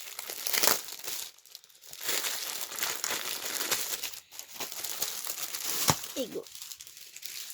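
Paper packaging from a clothing unboxing is unwrapped and crumpled in bursts of close, crackling crinkles, with brief speech and pauses between handling.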